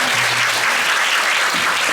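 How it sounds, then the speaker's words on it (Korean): An audience at a youth leadership launch ceremony applauds with dense, steady clapping that carries on at full level throughout. "다시 한번 뜨거운 박수 부탁드리겠습니다"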